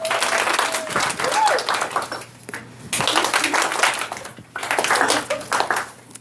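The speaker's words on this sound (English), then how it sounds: "I think I deserve a bit of applause." An audience at a class presentation breaks into bursts of applause, several uneven waves of clapping separated by short pauses, with voices mixed in.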